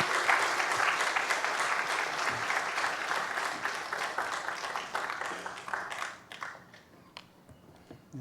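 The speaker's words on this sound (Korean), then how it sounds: "멀리서 오셨으니까 박수로 환영하겠습니다." A church congregation claps steadily to welcome a visiting pastor from America, a dense, even wash of applause that fades out near the end.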